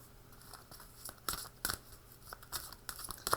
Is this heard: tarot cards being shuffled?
yes